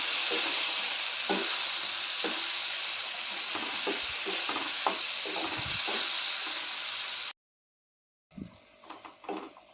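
Potatoes with green masala paste frying in a pan, a steady close sizzle with intermittent spoon scrapes and taps for about seven seconds, then a brief silence and a few quieter clattering sounds.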